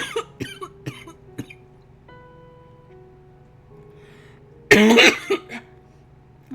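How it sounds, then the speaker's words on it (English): A person coughs hard in a sudden loud burst, preceded by a few sharp clicks and a faint tonal background with a steady low hum. "I didn't mean to cough like that."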